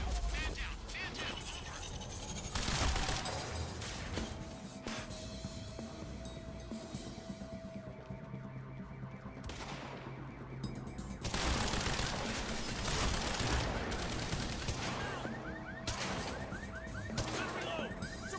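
Gunfire from sniper and automatic weapons in the video game Quantum Break, with sharp cracks and bursts scattered across the scene, loud and repeated, mixed with game combat noise and voices.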